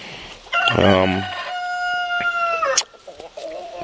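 A rooster crows once nearby, loud and drawn out, its call rising then holding steady before cutting off.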